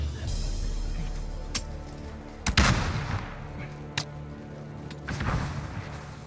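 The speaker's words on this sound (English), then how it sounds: "He got sniped, okay." Sniper rifle fire in a battle royale-style video game: one sharp, loud shot with booming echo, framed by a few fainter distant cracks over a steady background rumble.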